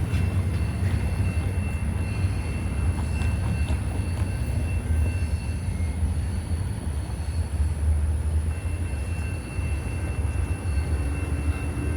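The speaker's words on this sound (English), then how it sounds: "And there goes the Union Pacific truck" A Union Pacific train passes, a steady low rumble of wagons rolling by at a moderate distance, fairly constant throughout with no talk.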